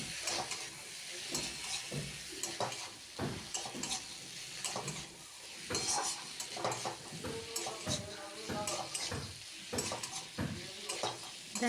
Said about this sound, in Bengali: আলু বেগুনটাকে আরও কিছুক্ষণ এভাবেই নেড়ে চেড়ে কষিয়ে নেব